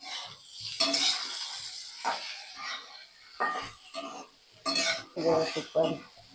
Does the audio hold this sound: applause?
no